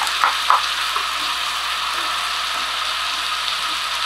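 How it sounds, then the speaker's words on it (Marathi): Green peas are tipped into a hot pan of oil for Surati undhiyu and sizzle in a steady, close hiss, opening with two quick clinks as they drop in. "त्याच्यानंतर मटार म्हणजे वाटाणे, हिरवे वाटाणे ते घालते."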